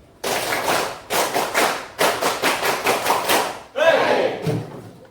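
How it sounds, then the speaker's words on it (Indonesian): A classroom group of high-school students claps a patterned concentration clap together, bursts of rapid claps in grouped rhythmic phrases, loud and close, ending with a shouted group response. "Untuk konsentrasi kita aktualisasikan dengan tepuk konsentrasi"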